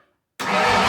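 A cammed Ford 351 Windsor V8 catches on its first start after cranking, bursting abruptly from silence into a loud, steady, rough engine roar that runs to the end.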